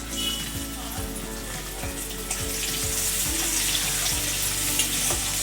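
Chopped onion goes into hot mustard oil with fried nigella seeds for a Bengali rui posto fish curry, giving a steady loud sizzle and crackle with faint stirring scrapes throughout, and no voices.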